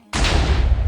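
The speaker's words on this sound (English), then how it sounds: "All right, explosions incoming." A single loud, sudden blast in a modded Minecraft video game kicks in after a short silence and then rumbles heavily for nearly a second.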